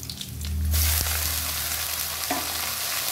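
Jute leaf greens hitting a hot pan of fried onion and garlic, bursting into a loud sizzle that settles into a steady fry with a few stirring scrapes.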